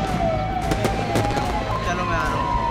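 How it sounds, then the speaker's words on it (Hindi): Repeated sharp blasts crackle and pop in a rapid series at a burning factory in Harda, India, over a busy, noisy scene, with a siren-like tone wailing through. "इन तस्वीरों में अभी भी धमाकों की आवाज सुनाई दे रही है।"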